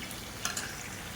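A quiet, steady sizzle of tomatoes sautéing in a pan, with a couple of soft scraping stirs partway through.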